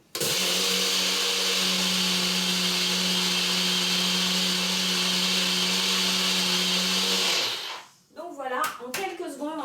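A small, very powerful countertop blender grinds hard flax seeds into powder, running loud and steady for about seven seconds before cutting off, followed by a voice speaking.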